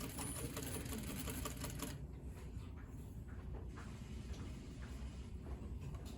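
A sewing machine stitches a tailored sleeve placket with a steady, fast mechanical whir and rhythmic ticking. It runs continuously and close up, easing slightly partway through.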